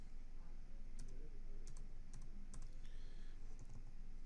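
Keys on a computer keyboard are pressed in short bursts to enter a zip code, a handful of faint clicks over a constant noisy background hum, with no talking.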